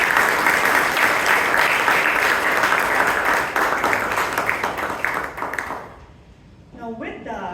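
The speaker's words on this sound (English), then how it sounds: "Can we have a big round of applause for everyone?" A room of attendees at a Toastmasters club meeting in Bangalore applauds loudly and steadily for about six seconds, then the clapping fades out and a voice is heard speaking at the end.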